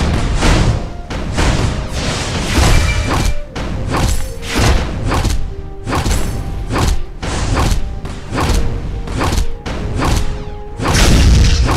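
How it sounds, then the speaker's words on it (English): Enemy turret blown up in the battle arena game Iron League 3, a run of loud booming thuds and crashing impacts in irregular rapid succession, each a sharp hit fading quickly, ending in a bigger sustained blast. "The enemy turret has been destroyed."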